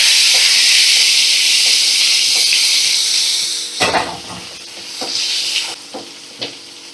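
Diced bottle gourd dropped into a pan of cooking fish, with a loud steady sizzle that drops off as the pieces go in, followed by a few stirring clatters close by.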